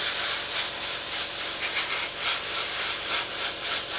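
Steady airbrush-style spray hiss while painting parts of a Tamiya 1/32 Spitfire model kit in an open cage system, continuous and close with faint pulsing.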